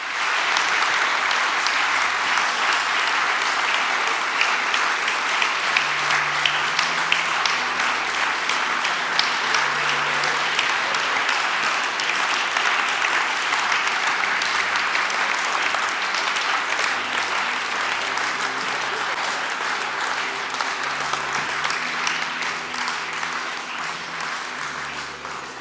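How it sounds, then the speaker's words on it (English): An audience at a live chess event applauds steadily and loudly for players coming on stage, with sustained dense clapping that runs for the full length and fades slightly near the end. "Let's give them a big round of applause for coming here."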